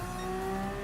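A race car in Gran Turismo Sport brakes hard into the tight right-hand Mulsanne corner at Le Mans and drops to first gear, a brief close engine drone with steady tonal whine.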